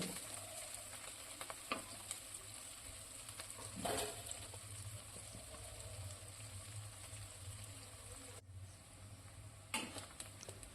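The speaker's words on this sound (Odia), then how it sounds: "ପିଆଜ ଭଲସେ ନାଲି ପକାଇକି ଭାଜିବା।" Onions frying in a pan as the base for an Odia bhakura fish curry: a steady low sizzle with occasional stirring scrapes, close and faint.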